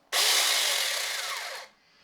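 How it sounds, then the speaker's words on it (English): Mini 6-inch cordless electric chainsaw on a test run with no cutting. It gives a single high whine of about a second and a half that starts abruptly, fades slightly, then cuts off sharply, close and loud. "Place a new battery in, give a test run."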